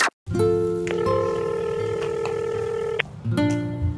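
A telephone call tone sounds steady and loud for about three seconds, sharp and clear, then cuts off before another short tone begins.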